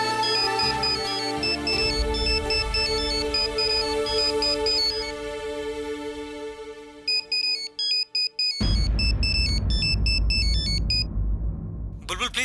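A phone rings with a melodic electronic ringtone playing loud and close for several seconds, then voices and background sound take over as the tune fades.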